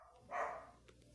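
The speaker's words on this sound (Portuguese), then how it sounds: "o cachorro tá latindo e tá me atrapalhando o pensamento" A single short dog bark during the daytime, somewhat distant and moderately faint, standing out briefly against a quiet background.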